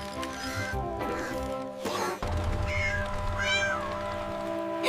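Several high, thin kitten meows, some wavering and drawn out, heard close over a steady humming background.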